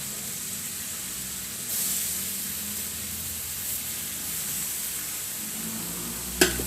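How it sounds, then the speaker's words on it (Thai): Squid and holy basil leaves stir-frying in a hot pan, giving a steady close sizzle and hiss throughout, with a brief louder clatter of the pan or spatula near the end. "ใส่กระเพราลงไปแบบนี้แล้วก็ผัดให้กระเพราสลบ"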